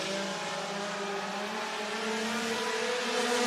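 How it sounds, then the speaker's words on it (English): Race cars on the Clarksville Speedway oval in Tennessee, their engines a steady, loud roar that swells slightly as they pass, with no talk over it. "here comes the 77 of Kearns. He's going to try to go around him for second."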